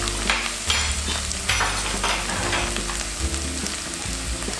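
Onions, mushrooms and olives sizzle in a pan for a pasta tomato sauce, with steady frying hiss and repeated scraping stirs throughout, close and moderately loud, no talking.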